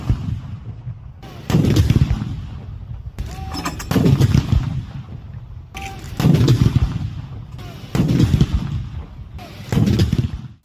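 Artillery guns fire an Independence Day salute in Peshawar: five heavy booms, loud and evenly spaced about two seconds apart, each rolling off into a long echoing decay.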